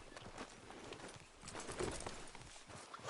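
Horse hooves clip-clopping in Red Dead Redemption 2, a steady walking rhythm of soft thuds running continuously under game ambience, moderately quiet and close, with no voices.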